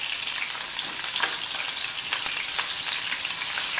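Green chillies fry in hot oil for a tomato chutney, giving a steady, close sizzle with small crackles and pops and no talking.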